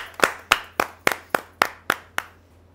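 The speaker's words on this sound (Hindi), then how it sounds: "जोरदार तालियों से स्वागत कीजिए उमाकांत पराशर जी" Sparse clapping welcoming a poet at a Hindi poetry gathering, about eight distinct, evenly spaced claps in a slow steady rhythm, close and crisp, with a faint low hum underneath and no talking.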